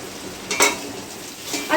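Chicken pilaf ingredients frying in a pan: a soft, steady sizzle broken by a couple of quick stirring scrapes, close by and with no talking.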